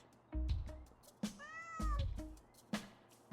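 A cat in the video game Cat Life Simulator meows several times in quick succession, one call drawn out into a rising and falling wail, each clear and close against a quiet background.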